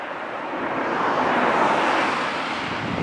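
A jet airliner touching down on the runway at an airport, heard as a steady, loud broadband roar that swells slightly midway and holds for about three seconds.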